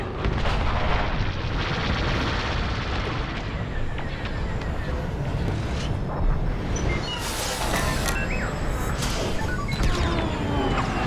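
Blaster fire and explosions in the Star Wars Squadrons space combat video game, a dense continuous barrage of booms and crackling shots with sharp zaps toward the end, loud and close.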